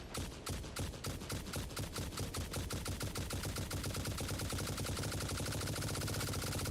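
Rapid automatic gunfire from a turbo rifle firing turbo ammo in the game Satisfactory, a fast steady burst of sharp shots running unbroken and growing slightly louder, with no talking.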